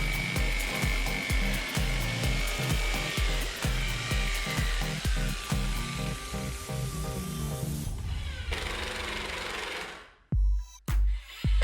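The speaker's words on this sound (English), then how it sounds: "I need to cut out a 6" by 6" notch on the back of one of my boards" A power saw cuts a 6 by 6 inch notch into the back of a wooden board, a loud, steady whining roar with pulsing cuts that runs for several seconds, then winds down and stops abruptly.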